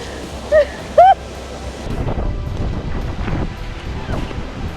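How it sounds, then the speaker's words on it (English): Wind gusting across the microphone outdoors in Iceland with a low rumble, after two brief high squeals or whistles early on. "Oh, there's a breeze. I got a gust right in my face."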